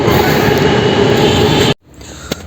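A metro train roars past nearby in a loud, steady rush that cuts off abruptly, leaving quiet with a faint brief click afterward.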